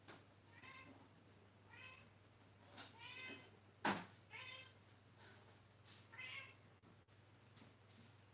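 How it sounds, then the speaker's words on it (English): A cat meows repeatedly before feeding time, several drawn-out calls spaced a second or so apart, close and moderately loud over a steady low hum, with one sharper, louder cry in the middle. "I'm going to feed my cat."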